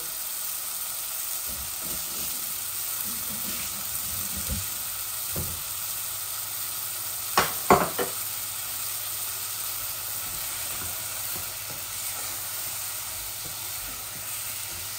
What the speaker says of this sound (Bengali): শুটকিগুলো একটু ভুনা ভুনা করবো